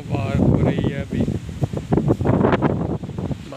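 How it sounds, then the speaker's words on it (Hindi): Strong, cold wind with light drizzle buffets the microphone in steady gusty rumbles beneath someone talking throughout. "देखें कितनी ज़्यादा हवा चल रही है, वो भी इतनी ठंडी हवा"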